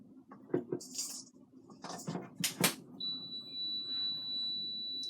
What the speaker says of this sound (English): You hear the beep? It tells me that it's plugged in.